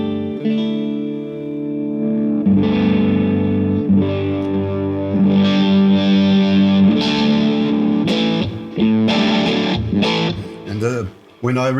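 Electric guitar run through a TubeZone fuzz pedal on humbucker and single-coil pickups, giving sustained, gritty chords with a few sharper strums near the end, close and fairly loud.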